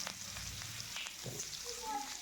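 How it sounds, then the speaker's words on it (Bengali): Potatoes frying in hot oil in a pan that just held fried fish, for a home-style koi fish and bottle-gourd greens curry: a steady, fairly quiet sizzle with light crackle throughout. "আলুগুলি দিয়ে এভাবে একটু ভাজা ভাজা করে নেব।"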